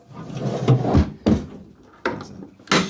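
A Dunn & Watson slide-out undertray toolbox drawer is pushed shut, giving several close, solid knocking thuds spread over a few seconds with no voice.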